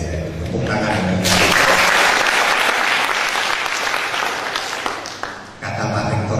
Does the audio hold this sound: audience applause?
yes